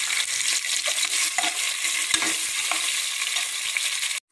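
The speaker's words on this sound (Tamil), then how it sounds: "வெங்காயம் வதங்கிட்டு தக்காளி சேர்த்துக்கலாம்." Onions and tomatoes sautéing in a pan for sambar rice, a steady close sizzle with faint stirring clinks throughout, cutting off abruptly near the end.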